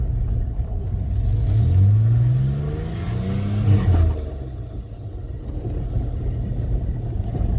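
A car pulls away on an icy road, its mid-pitched engine revving up loudly and rising in pitch, then cutting off sharply around four seconds as it shifts into second gear, leaving a steady rumbling drive.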